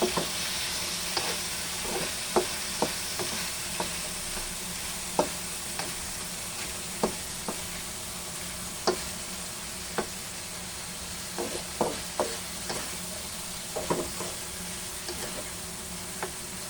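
Mung bean sprouts fry with a continuous close sizzle while a utensil stirs them, tapping and scraping the pan in irregular strokes throughout; no talking.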